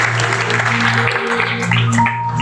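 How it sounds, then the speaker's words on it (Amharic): A church congregation applauds for Pastor Ali, a dense, steady patter of many hands clapping close by, with faint voices and a soft tonal backdrop underneath. "አጨብጭቡለት"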